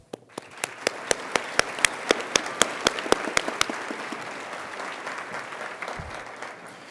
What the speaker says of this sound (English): our graduating class deserves a round of applause